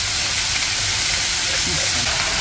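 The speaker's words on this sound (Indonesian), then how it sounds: "Bumbunya kita goreng guys." Spices fry in oil in a wok over a wood fire, giving a loud, continuous close-up sizzle and hiss that fills the whole stretch.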